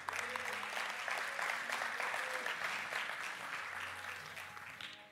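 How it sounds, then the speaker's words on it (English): A church congregation claps together, a dense sustained applause that holds steady and then tapers slightly toward the end, with no voice over it. "the reason that those people are clapping is because you just made a decision that can change your eternity"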